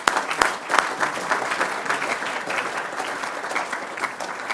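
Applause at a journalism awards ceremony, a round for a property sponsor: steady dense clapping from a hall audience, sustained evenly throughout with a few sharper claps standing out near the start.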